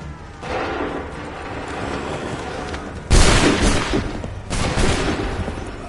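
A volley of musket fire in Assassin's Creed 3 Remastered on PS5 erupts as one loud crashing blast, followed by a second ragged volley over a steady battlefield din.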